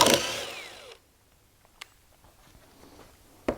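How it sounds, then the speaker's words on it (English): A power drill backing screws out of workbench boards, a short whirring spin that fades out within a second, then quiet broken by two faint clicks. "take it all apart again, take all the screws out"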